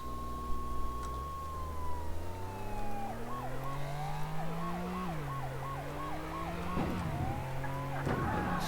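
A police car siren in the Flashing Lights video game wails and then shifts into a fast, rapid yelp pattern, loud and continuous over low engine drone, during a car chase.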